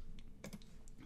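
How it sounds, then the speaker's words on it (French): Keys clacking on a computer keyboard while entering a value in SketchUp, with a few close, crisp key taps and one firmer press like the Enter key, over a steady low background hum. "je vais entrer au clavier 45, suivi de la touche Entrée"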